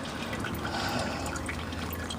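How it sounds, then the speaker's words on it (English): Engine oil drips and trickles from the drain of a 2012 Honda Civic during an oil change, a faint, steady liquid patter close by. "as the oil comes out, it starts to drip forward"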